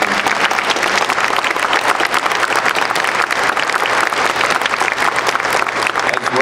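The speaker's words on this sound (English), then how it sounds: "So if we could just give both of them a nice round of applause for the work." Loud, dense applause from an audience at a Mass Blanket Exercise gathering, a steady sustained clapping that fills the whole stretch without pause.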